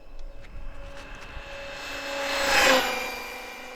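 A brushless Traxxas Summit RC truck running at full throttle on a 4S or 6S LiPo, its high motor whine swelling as it approaches, peaking loudly and then fading past, over faint background noise.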